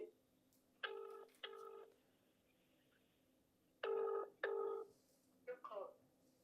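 Phone ringback tone: pairs of electronic rings separated by quiet gaps, faint and steady, followed by a brief bit of talk.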